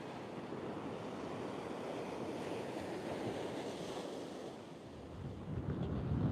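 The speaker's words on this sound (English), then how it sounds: "I thought I'd jump on here and give y'all a few shots of the beach" Ocean surf washing onto a beach, a steady broadband rush of breaking waves with wind buffeting the microphone, swelling louder toward the end, with no voices.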